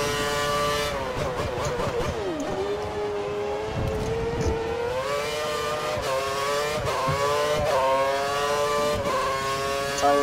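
F1 race car engines from a Hungarian Grand Prix round in the F1 2013 video game whine and rev continuously, pitch climbing and dropping through gear changes, loud and with no talk over it.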